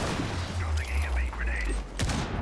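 Grenade blast and gunfire in Rainbow Six Siege: a brief rumbling boom and crackle, with sharp shot transients near the end, layered with quick talk and in-game voice chatter.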